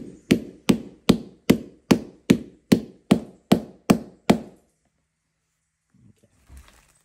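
Eleven sharp, evenly spaced blows from a cast iron hammer striking Tricouni nails into a boot sole, loud and close, followed by silence and a faint shuffle.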